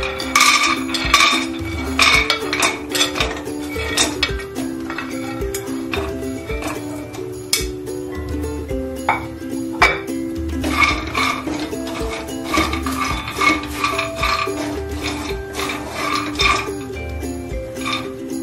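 Dry fruits roasting in cooking oil in a pan, with a steady sizzle and frequent metallic clinks and scrapes of a spoon stirring against the pan, close and continuous throughout.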